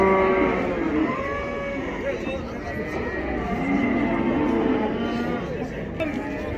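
Cattle moo at a busy livestock market in Taraz, with long low lowing calls rising over a dense crowd murmur and voices of people talking throughout.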